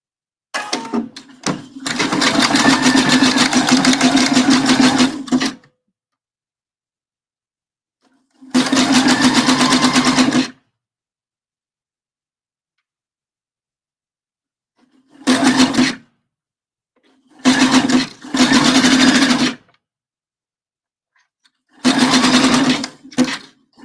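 A sewing machine stitches a bra, including a back stitch, in several loud, close bursts of steady rapid whirring, the longest at the start, separated by silent pauses.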